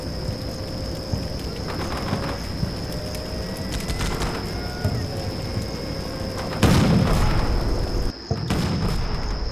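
Soldiers firing into a building in the wargame Combat Mission Shock Force, with steady bursts of gunfire and booming impacts over a constant background hum, and a heavier blast near the end.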